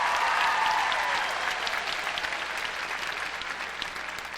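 A large crowd at a graduation valedictorian speech applauds steadily, dense clapping that gradually fades a little in intensity.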